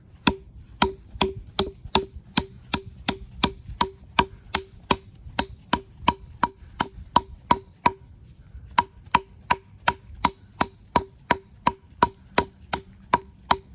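Lionsteel M5 camp knife chopping into wood, a long run of sharp, evenly spaced blows about twice per second, each a crisp woody crack, with a brief pause partway through before the strikes resume.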